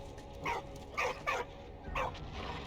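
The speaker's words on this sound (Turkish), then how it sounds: "Niye bu kadar sinirlendi bu köpek bir anda?" A dog barks angrily in the WWI video game Valiant Hearts: The Great War, four short separated barks at moderate volume over a low background hum, with no talk.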